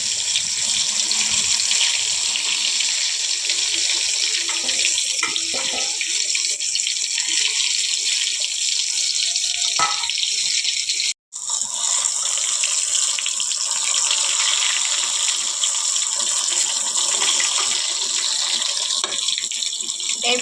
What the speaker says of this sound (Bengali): তেলের মধ্যে এক এক করে ছেড়ে একদম ডুবো তেলে ভেজে নেব।